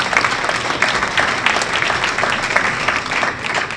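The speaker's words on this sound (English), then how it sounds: "If we can just give them a round of applause for this opportunity" Audience applause for honorees at a gathering, a dense steady wash of many hands clapping that holds evenly throughout at moderate loudness.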